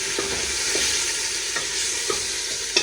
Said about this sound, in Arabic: وابتدي ايه اشوحهم تشويحه حلوه كده ريحتهم تطلع